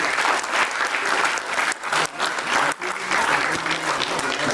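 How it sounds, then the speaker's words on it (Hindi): A crowd of seniors and colleagues at an event gives loud, sustained applause, thick continuous clapping that briefly dips twice before carrying on strong. "जोरदार तालियां हमारे इन सभी सीनियर्स के लिए"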